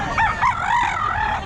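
A Kelso breed rooster, one of a set of sibling gamecocks offered for sale, crows once in a loud, close, wavering call that lasts the full second and a half, with no talk over it.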